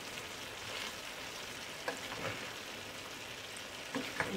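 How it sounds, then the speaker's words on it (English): Chicken and broccoli stirred while frying in a pan, with a steady close sizzle and occasional scraping clicks of the utensil against the pan. "Stir it, mix, whatever you call it"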